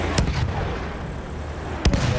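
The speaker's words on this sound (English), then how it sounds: "Wait for the enemy artillery barrage to stop firing." Enemy artillery barrage in the World War I shooter Battlefield 1: two sharp booming impacts, one near the start and one near the end, over a constant roar of distant battle noise and rumbling explosions.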